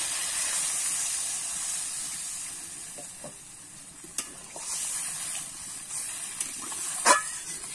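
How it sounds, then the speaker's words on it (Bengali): Water poured into a hot pan of frying potatoes and plantain sets off a steady bright sizzle and hiss, close by, with a few small clinks and bubbling pops along the way. "এবারে কিন্তু আমি জল দিয়ে দেবো।"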